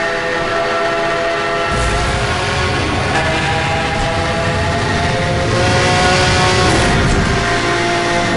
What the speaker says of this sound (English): Do you notice the engine, as I'm going faster, the loud the engine's getting?